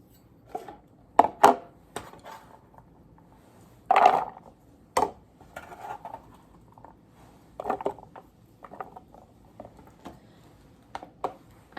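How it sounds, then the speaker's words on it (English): A knife chops an onion on a cutting board in a kitchen, making close, irregular wooden taps and thuds in short bursts with quiet gaps between them. "I'm just going to continue up chopping this onion"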